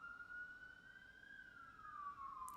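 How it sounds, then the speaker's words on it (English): A siren wails in the distance, one long faint tone that rises slowly and then falls away as the vehicle passes, heard alone over a quiet background. "Just gonna wait for the siren to pass."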